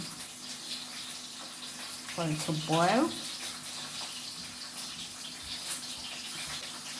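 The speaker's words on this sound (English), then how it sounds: "this is 6 cups of water that I'll be pouring in" Six cups of water pour steadily into a cooking pot for Jamaican-style curried goat, a continuous splashing rush heard close up, with a short spoken remark partway through.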